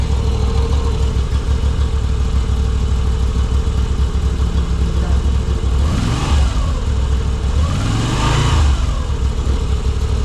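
A Moto Guzzi V85TT motorcycle engine runs steadily up close, then revs twice in quick succession, its pitch sweeping up and back down each time over a constant throbbing base.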